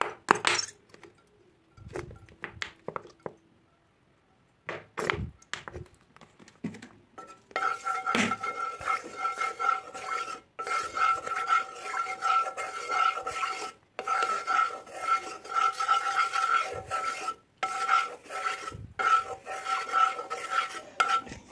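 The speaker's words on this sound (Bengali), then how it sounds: "তো এবার অয়েলটা ঢেলে দিই।" In a hot nonstick kadai, a few sharp scrapes and clatters come first, then a long run of steady stirring and scraping, close and moderately loud, broken by brief pauses and knocks of the utensil.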